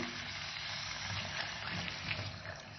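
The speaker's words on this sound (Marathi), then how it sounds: "चिकन परतून झाल्यावर लगेचच गरम पाणी यात सोडायचं." Hot water is poured into sautéed chicken for a chicken rassa with fresh cashews, making a soft continuous rush and gurgle that holds steady for the whole moment, fairly quiet.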